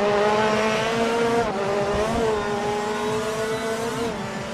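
A WTCC race car in a racing video game brakes and downshifts into the Nürburgring carousel, with a loud, buzzing engine note that drops in pitch and strained tyre noise continuing throughout.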